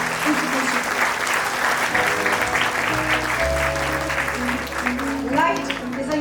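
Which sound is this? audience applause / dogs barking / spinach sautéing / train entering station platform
audience applause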